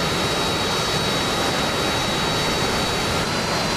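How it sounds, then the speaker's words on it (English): A Harrier jump jet roars steadily in the DCS flight simulator game, a loud continuous engine whine and rush with a thin high tone running through it, close and unbroken. "Let me just move away from this ghastly loud Harrier."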